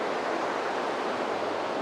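River water swirls and rushes in eddies past an old Mahavishnu temple partly submerged by the river, a steady broadband flowing wash without pauses.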